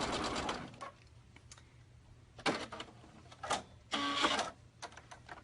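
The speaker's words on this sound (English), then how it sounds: "just sew my 1/4 inch seam" A sewing machine sews a quarter-inch seam in several short, close bursts of whirring stitching separated by quiet pauses, the last run the steadiest and loudest, with no voices over it.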